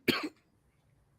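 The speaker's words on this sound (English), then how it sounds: "I'm coughing on this water." One short, sharp cough while drinking water, close and fairly loud, then quiet.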